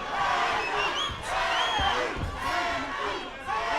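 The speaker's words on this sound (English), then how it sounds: "I think they're chanting monkey in the crowd." Crowd at a boxing match chanting and shouting together, a loud continuous roar with rising and falling cheers filling the arena.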